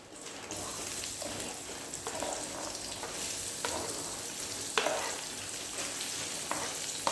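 Onion and ginger frying in hot oil, a steady bright sizzle throughout with occasional stirring scrapes and clatters, close and fairly loud, with no talking.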